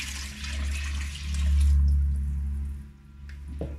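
Water, 1.5 pints, pours steadily into a saucepan of French onion soup with a low gurgling rumble that swells and then tapers off, with no voices.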